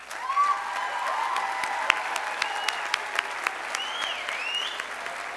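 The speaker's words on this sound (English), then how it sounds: "I applaud the graduates once more." Audience applause at a Cedar Crest College commencement ceremony in 2015, a steady wash of many hands clapping at moderate distance with faint whoops and cheers rising over it.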